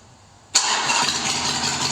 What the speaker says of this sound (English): Come on, turn it on.